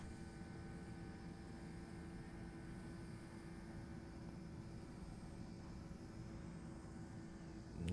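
Steady, loud drone of McDonnell Douglas DC-10 jet engines on approach into Chicago O'Hare, holding a broad continuous roar with a slight swell right at the end as thrust comes up.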